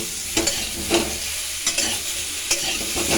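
Food frying in a pan while khichuri is prepared, with cauliflower browned in oil: a steady close sizzle with repeated stirring scrapes every half second or so, and no voices.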